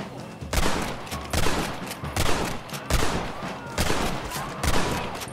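A Gatling gun firing from a train in Red Dead Redemption: loud, close bursts of rapid automatic fire, about six clustered volleys separated by brief gaps, with no voices.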